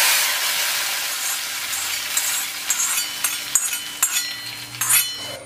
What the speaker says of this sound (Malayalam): ഇനി നമുക്ക് അങ്ങ് ഒഴിച്ചു കൊടുക്കാം നമ്മുടെ കറിയിലേക്ക്